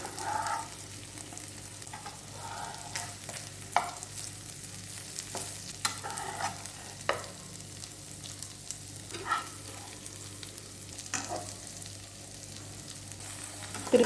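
Chicken pieces frying and roasting on a flat tawa, a steady close sizzle throughout with irregular scraping and stirring knocks as the pieces are turned two or three times.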